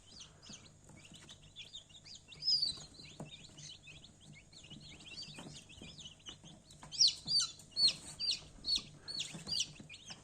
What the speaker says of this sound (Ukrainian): Ось така бандочка курчат у нас знову є.